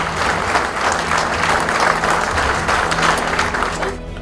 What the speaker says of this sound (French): On peut les applaudir aussi très très fort.